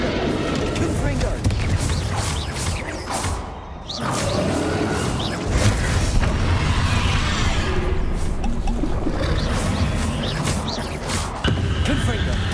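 Repeated fire-spell blasts crackle and roar during a video game battle against Ranrock in Hogwarts Legacy, bursts layered with game effects and shouted spell names.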